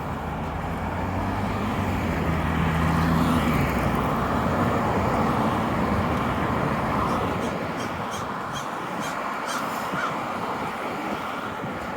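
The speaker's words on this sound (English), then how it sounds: "A lot more noise here because you're picking up the traffic here on Bayers Road." Steady broadband road traffic roars continuously along Bayers Road beside a neighbourhood street, a dense wash of passing vehicles with no break, heard from the roadside.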